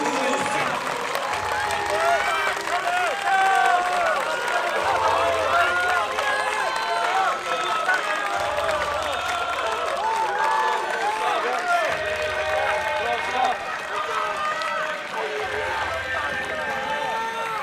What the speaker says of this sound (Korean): 우리 선수들을 박수로 응원해 주십시오